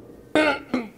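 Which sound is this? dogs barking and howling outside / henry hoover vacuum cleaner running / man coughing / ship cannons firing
man coughing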